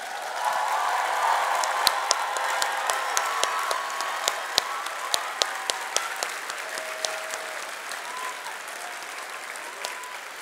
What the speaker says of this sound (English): can I please have a massive round of applause for the top 10 high school